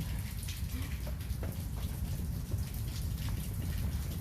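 Steady heavy rain pours down during a thunderstorm, a dense continuous hiss of drops hitting surfaces close by, with no voices.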